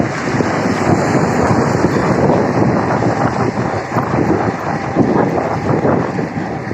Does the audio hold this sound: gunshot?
no